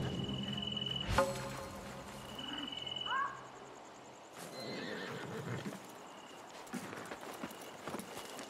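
Horses in the video game Assassin's Creed Mirage neigh and whinny in a couple of loud bursts, with hooves clip-clopping, crickets chirring in the background and a few brief knocks.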